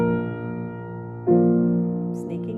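Piano playing Schumann's Träumerei, Op. 15 No. 7, a sustained chord fading, then a new soft chord entering and swelling slightly before decaying, alone with no talk.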